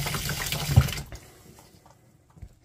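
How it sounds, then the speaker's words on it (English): Tap water runs briskly over an Epson printhead being rinsed in a sink, a loud gushing splash for about a second that then cuts off, leaving faint drips and small handling knocks. "we're pretty good here, so we can just rinse it off"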